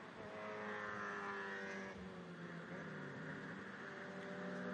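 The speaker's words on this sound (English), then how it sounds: "Cars heading up over the crest now." Race cars, including a Honda Civic, running on the Lime Rock Park circuit during a GRIDLIFE time attack event: sustained engine drone with shifting pitch as they climb over a crest, heard from a distance and fairly faint.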